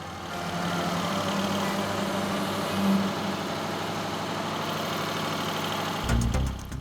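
A huge diesel emergency generator engine at an airport runs steadily with a loud, continuous low droning hum and mechanical clatter, close by, with a brief clunk near the end.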